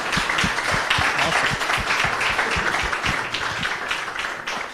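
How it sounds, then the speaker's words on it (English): Audience applause at a Chautauqua County Chamber of Commerce brand launch: a dense, steady wash of many hands clapping, loud and close, with no talking over it. "Please give them another round of applause"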